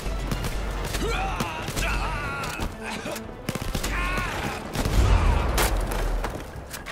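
Rapid gunfire in the shooter game Blood & Truth, bursts of shots and booms crackling continuously through a dense, loud action scene with shouting voices mixed in.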